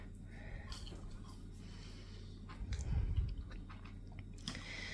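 Crunchy French fries chewed close to the mouth, repeated moist crunching bites with a louder burst of chewing midway and faint breathing underneath.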